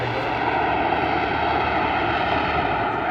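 Steady, droning engine of an aerobatic propeller aircraft holding a hover at the English Riviera Airshow 2024, a continuous even roar at moderate distance with no talk.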